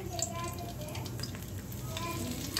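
Whole cinnamon, cloves and cardamom sizzle in hot oil and ghee for Salem-style mutton biryani, a soft continuous crackle with small pops throughout.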